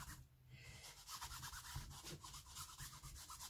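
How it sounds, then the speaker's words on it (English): An old ruined book is rubbed with a towelette to give it a grungy look, producing a steady scratchy friction with repeated strokes close up, continuous for a few seconds with no talking. "then you sort of rub some of the other stuff off"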